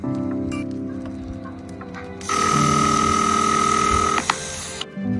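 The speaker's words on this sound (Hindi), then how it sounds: "फोन बज रहा है, मैं सुन के आता हूँ।" A telephone rings with a loud, steady electronic trill lasting a couple of seconds, then cuts off, over a low background hum.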